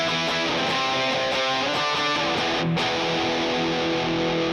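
An electric guitar is played through Boss DS-1 and Tube Screamer distortion pedals into an amp, giving a thick, saturated distorted tone with sustained chords and a few rhythmic strums.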